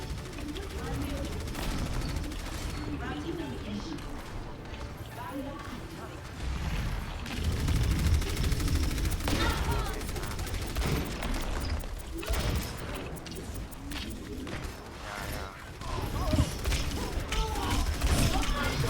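Rapid mechanical gunfire and clattering weapon effects from Overwatch Mystery Heroes on the Junkertown map run continuously across a busy match, with a player's voice talking over the action.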